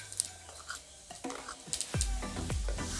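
Elephant foot yam and fish curry cooked without oil, stirred in a pan with salt and turmeric: faint, scattered scraping and soft clinks of a spoon against the pan, quiet and close, without speech.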